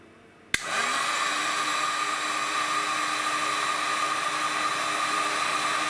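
A heat gun clicks on and blows a loud, steady rushing whoosh while shrinking heat shrink tubing on airsoft rifle wiring, a Tokyo Marui SCAR-H, running continuously and close by without any speech.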